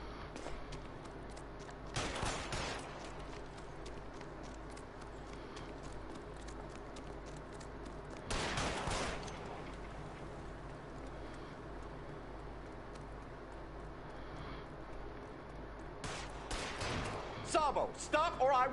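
Gunfire in the video game L.A. Noire comes as three separate bursts of loud, sharp shots several seconds apart, with people talking between them over low background music.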